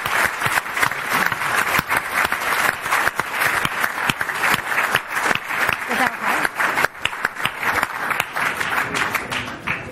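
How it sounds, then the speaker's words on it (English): A conference audience applauds continuously for about ten seconds, a dense, loud wash of many hands clapping at a steady level, with some voices faintly underneath. "Can we have a huge round of applause?"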